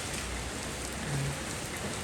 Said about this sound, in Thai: นี่ฝนแบบโปรยๆธรรมดานะคะ